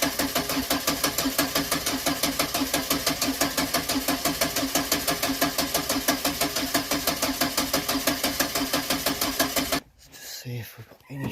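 A 1985 Renault 5 GTL engine cranks over and over with the choke pulled, a steady rapid rhythmic churn of the starter filling almost ten seconds before stopping abruptly into a quieter clunk and rustle.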